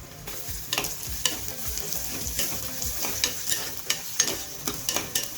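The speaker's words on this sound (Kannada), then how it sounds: "ಆಮೇಲೆ ಹಸಿ ಮೆಣಸಿನ್ಕಾಯಿ ಮಧ್ಯೆ ಕಟ್ ಮಾಡಿ ಒಗ್ಗರ್ನಿಗೆ ಹಾಕಾತೇನ್ರಿ" Slit green chillies frying in tempering oil, a bright crackling sizzle up close with repeated spatula scrapes and stirring strokes at an irregular pace.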